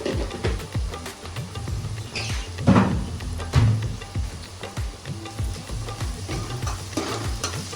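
Onions fry with salt in a pan for a Nellore village-style fish curry, producing a close, steady sizzle with repeated scraping strokes of a spatula stirring in an uneven rhythm.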